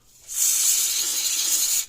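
Electrical contact spray hisses from a can onto an older Tonka toy fire truck in one steady burst of about a second and a half, close and fairly loud.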